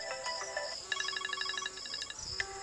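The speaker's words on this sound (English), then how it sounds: "By default, it is set to this ringtone opening." The iPhone 6 Plus default ringtone, Opening, plays from the phone's speaker as a bright, clear melodic pattern of quick repeated chiming notes, loud and alone.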